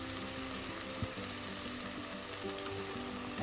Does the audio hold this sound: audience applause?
no